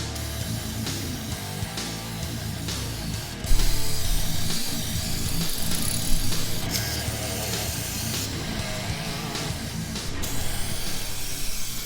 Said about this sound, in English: I'm going to spray it on liberally.